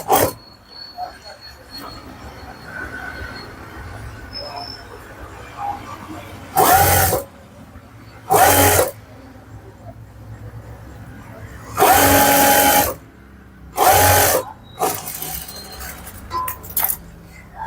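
A sewing machine stitching a blouse, running in short loud bursts of rapid whirring separated by quiet pauses, with faint background sounds between runs.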